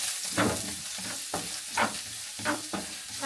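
Garlic fries in a heated pan at home, a close sizzle broken by a few stirring scrapes and crackling bursts, with no one talking.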